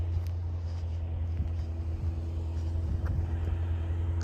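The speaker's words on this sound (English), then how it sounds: "I'm out here in Lakeland in this truck." Steady low engine rumble and road noise from inside a truck driving around Lakeland, a continuous even drone with faint rattles and no talk.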